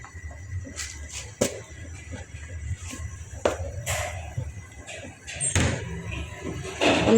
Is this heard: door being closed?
yes